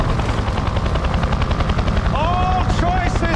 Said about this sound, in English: I hear the helicopter.